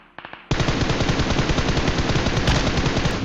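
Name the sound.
M4 rifle gunfire in PUBG video game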